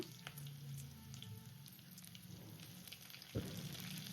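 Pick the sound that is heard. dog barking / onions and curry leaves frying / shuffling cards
onions and curry leaves frying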